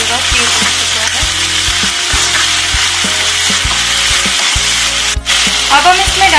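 Masala roasts in a kadhai for kadhai paneer, making a loud, continuous sizzle with repeated scraping and stirring strokes from a spoon against the pan.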